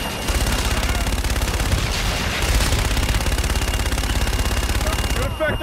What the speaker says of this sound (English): Roger, inbound for gun run. Guns, guns, guns!